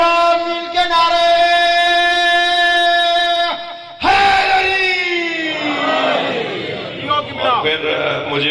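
A large majlis crowd calls out religious slogans in unison, a sustained chorus of voices that breaks off and then returns as a louder, more ragged shout, close and filling the space.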